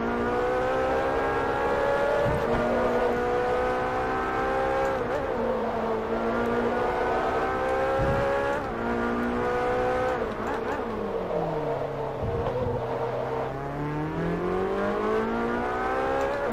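A class R1 race car in Forza Motorsport 3 howls at high revs as its wheels spin, the engine pitch sliding up and down in long sweeps, loud and steady throughout with no pauses.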